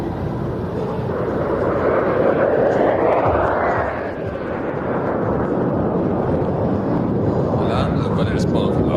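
An Aero L-39 jet flies a minimum radius turn at a general aviation airshow in Saudi Arabia, a loud sustained roar that swells and shifts in pitch as it passes, with commentary talking over it.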